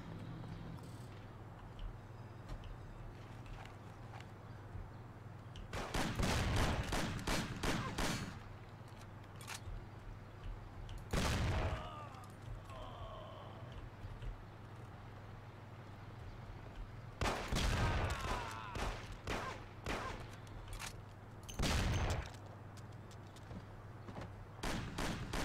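Video game gunfire in repeated rapid bursts, four clusters of sharp cracks separated by quieter stretches, set against a steady low background hum.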